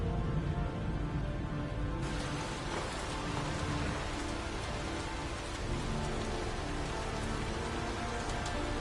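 Heavy rain pours down in a steady, dense roar of drops, with no voices.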